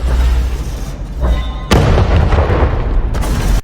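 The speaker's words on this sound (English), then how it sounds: "the impacts are just that explosion sound" Deep booming explosion impacts from a demo reel sound effect, two heavy blasts with rumbling low end, the second hitting hard near the midpoint and sustaining loudly until an abrupt cutoff.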